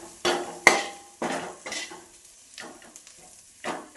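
A spoon clanks and scrapes against a pan while beef is stirred with chilli powder, in a handful of separate sharp knocks spread unevenly through the moment, over a faint sizzle, with no talk.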